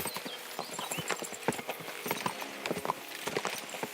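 Horse hooves clip-clop in the video game Kingdom Come: Deliverance 2, a steady close run of hoofbeats with a soft rhythmic patter throughout.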